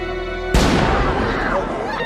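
A single loud gunshot in a film scene cracks out sharply and leaves a long, rumbling decay after it. Before the shot a steady tonal hum plays.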